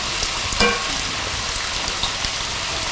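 Samosas frying in hot oil give a steady, close crackling sizzle throughout, with one brief clatter early on and no talking.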